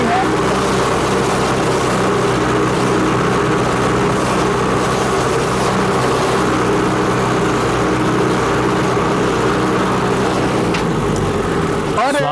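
A tractor engine drones loudly and continuously through the whole stretch, a steady rough mechanical roar mixed with talking voices, constant in level with no pauses.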